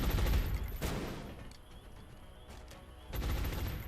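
Suppressive gunfire rattles in the strategy video game XCOM: Long War, with a loud burst at the start, a lower sustained stretch of firing and echo, then another burst near the end.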